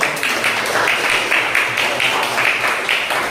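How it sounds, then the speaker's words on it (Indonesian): Students in a classroom clap together, a short burst of rapid, fairly loud hand claps with a slightly uneven rhythm over a few seconds. "Tepuk tangan buat ini."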